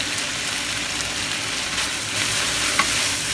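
Minced pork and Thai basil stir-frying in a hot pan, a steady loud sizzle with faint stirring scrapes throughout and no voices.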